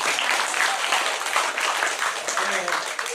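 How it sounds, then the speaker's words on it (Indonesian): A seated audience at a training workshop claps in a dense, steady burst of applause with some voices mixed in. "tepuk tangan dulu semuanya."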